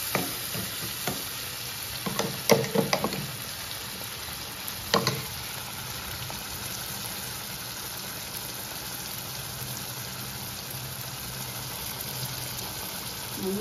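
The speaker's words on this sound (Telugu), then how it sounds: "మంచిగా వేయించుకోవాలన్నమాట" Spices frying for jackfruit seed curry, with a few stirring scrapes and soft clatters early on, then a steady low sizzle that carries on quietly.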